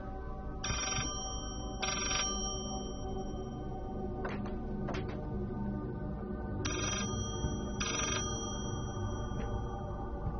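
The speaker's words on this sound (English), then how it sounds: "Let's pick up the phone." A telephone rings inside the Layers of Fear horror video game, four tonal ring bursts in two pairs over a steady low ambient drone, with a pair of faint clicks between them and no talking.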